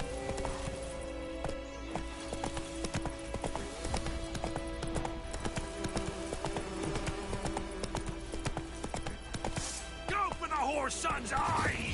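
Hooves of the horse Roach clip-clop at a steady trot in The Witcher 3, set in the White Orchard area, under continuous game music and ambience with a brief whinny-like flourish near the end.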